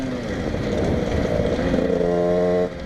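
A Yamaha DT 125 enduro motorcycle, poorly tuned, revs up steadily, its engine note climbing and holding high and loud before dropping off abruptly near the end, with no voices.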